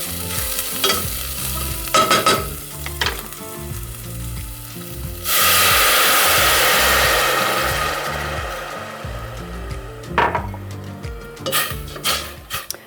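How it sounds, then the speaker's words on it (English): Wine hits a hot pan with a sudden loud hiss and sizzle for several seconds, then fades into steady scraping and stirring of the browned fond while chicken stroganoff cooks, with utensil clinks against the pan. "You want to make sure to scrape the bottom of the pan to deglaze all the beautiful brown fond off the bottom"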